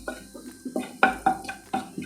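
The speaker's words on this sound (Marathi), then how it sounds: "आता आपण ही फोडणी अशी मिक्स करून घ्यायची आहे व्यवस्थित" A spoon stirs a chili powder and asafoetida tempering in a pan, making rhythmic metallic scrapes and clinks about four times a second, close and moderately loud over a faint sizzle.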